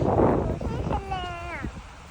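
Strong wind at a freshwater lake beach at Hat Saen To buffets the microphone with a loud, rough roar, then eases as a voice starts speaking over it.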